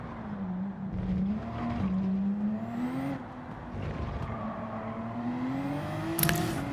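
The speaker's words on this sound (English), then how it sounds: "Porsche 911 RSR. This also needs a turbo, and off we go to driving." A Porsche 911 RSR Gr.3 race car with turbo in Gran Turismo 7 drives with a steady engine drone whose pitch rises and dips through gear changes, with a brief sharp burst near the end.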